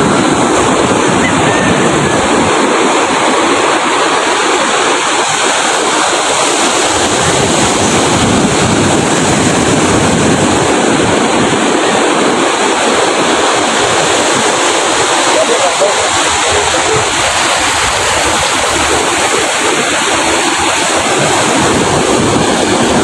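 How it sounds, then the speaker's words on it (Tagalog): Big ocean waves crash and roar continuously on Berna Beach, loud and close with strong wind buffeting the microphone, with people talking faintly over the surf. "Ang laki ng alon."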